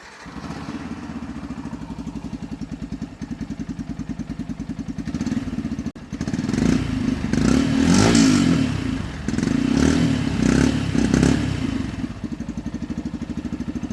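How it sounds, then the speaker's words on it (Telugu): A Yamaha FZ-S 4.0 motorcycle starts and settles into a steady, close, loud idle, then its exhaust note swells through several throttle blips before dropping back to idle. "దీని ఎగ్జాస్ట్ నోట్ అయితే విందాం, ఆ తర్వాత దీని ప్రైస్ డీటెయిల్స్ అవన్నీ చూద్దాం. ఒకసారి స్టార్ట్ చేద్దాం."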